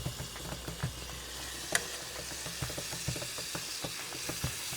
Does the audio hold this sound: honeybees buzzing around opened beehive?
no